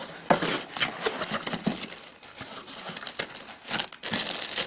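Packaging being opened for a Cideko Air wireless keyboard, with close, loud crinkling and tearing of plastic and cardboard in irregular bursts and no talking.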